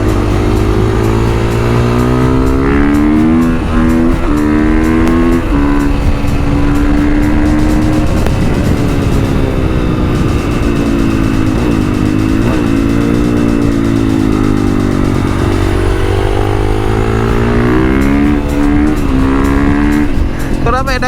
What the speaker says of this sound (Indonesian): Kenapa enak banget ya habis nikung langsung gaspol gitu Willy.